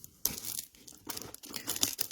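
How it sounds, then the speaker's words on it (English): Crinkly tearing and rustling of cellophane wrapping being cut away with scissors from a Stampin' Up! kit, several short close bursts separated by brief pauses, quiet and without speech. "let's grab a pair of scissors and get rid of the cellophane"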